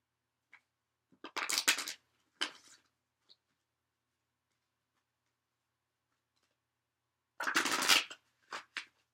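Aboriginal oracle cards shuffled close to the microphone in two short clusters of crisp riffling, with a few light taps between them and near silence in the gaps.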